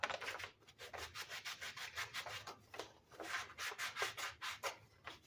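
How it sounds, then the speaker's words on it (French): Sanding a scrapbook album cover by hand: quick, close rhythmic scratchy rubbing strokes in rapid succession, faint overall and with no talking. "Alors là, on va tout sabler ça."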